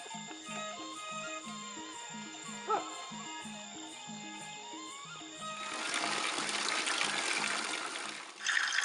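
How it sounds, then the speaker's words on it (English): At the Mulabari village water point in Nepal, cold running water gushes and splashes loudly in the second half of the clip, following a stretch of steady tonal background with a brief bump partway through. "this is the Mulabari village water point where the villagers get access to the cold running water."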